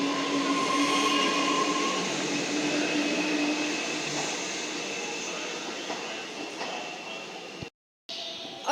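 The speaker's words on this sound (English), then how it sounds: "See the V-Line in the background there as this train goes off towards Flinders Street" Metro Melbourne train pulling away toward Flinders Street, a steady rumble and hum that slowly fades with faint wheel squeal, moderately distant, cut by a brief dropout near the end.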